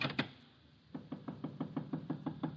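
A radio-drama door knock: two quick raps, a pause, then a steady run of about ten evenly spaced knocks on a wooden door, close and fairly loud, with no voices.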